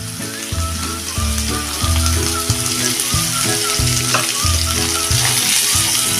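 Red pumpkin pieces sizzle in hot oil as they are sautéed, a loud continuous frying hiss with periodic scraping and stirring strokes of a utensil against the pan.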